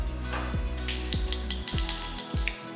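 Steady crackling sizzle of mustard seeds, urad dal and chana dal frying in hot oil, with a low droning hum underneath and a few louder pops.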